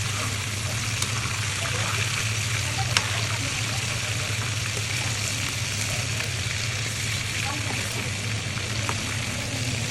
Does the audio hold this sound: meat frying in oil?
yes